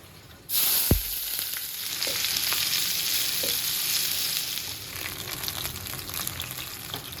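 Food hits a hot pan with a sudden loud hiss, then settles into a steady, close frying sizzle with faint stirring clicks, no voices over it.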